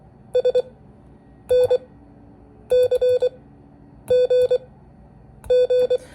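Clipped Morse code tones with Farnsworth spacing in short grouped bursts, each cluster of quick beeps separated by longer silent gaps, steady and even in pitch.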